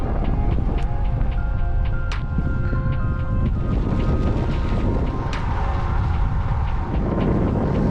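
Strong wind buffets the microphone during a long-distance bike ride on a rough stretch from Norseman to Albany, a loud, continuous roar with gusting rumble filling the whole stretch.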